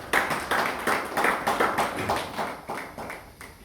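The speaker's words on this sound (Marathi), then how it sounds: "आपण वर्षाच्या वाढदिवसाच्या टाळ्या वाजवायला हरकत नाही" An audience at a lecture series' first-anniversary event claps in rhythmic, evenly spaced bursts, fairly close and moderately loud, fading slightly toward the end.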